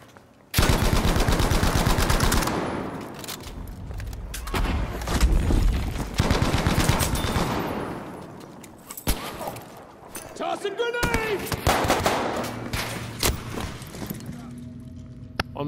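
Sustained bursts of Bren light machine gun fire in a hardcore team deathmatch on an Iwo Jima map, loud and continuous with brief pauses and layered battle noise, while players call out over it.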